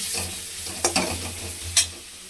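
Turmeric, cumin and coriander powders sizzle quietly in hot oil in a pan for patal malai kofta, with a low steady fry broken by a few sharp stirring scrapes.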